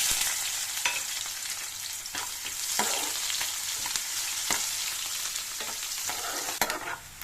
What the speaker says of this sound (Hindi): तो जी ये गया हींग, जीरा और ये प्याज।